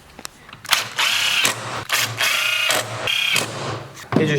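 An electric clothes drying rack's motor runs in loud bursts of mechanical whirring and clicking, stopping briefly between several stretches, close by with no one talking.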